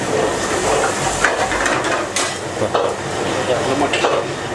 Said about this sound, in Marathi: तर हे आता तेलावरती चांगलं फ्राय करून घेतलं जाईल